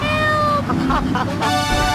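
A cat meows in a radio advertisement in the video game GTA 3, with several drawn-out, wavering calls in a row over a busy, slightly noisy background.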